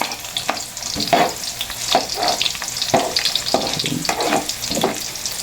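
Onion sizzling in a pan while frying for squid adobo, with a continuous crackle broken by repeated scraping and stirring strokes from a utensil at close range.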